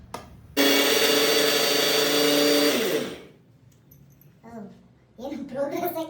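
A mixer grinder whirs loudly and steadily for about two and a half seconds as it grinds chutney powder, then winds down. Voices talk quietly afterward.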